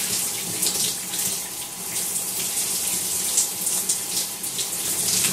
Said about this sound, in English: what you're going to do is just wet your hair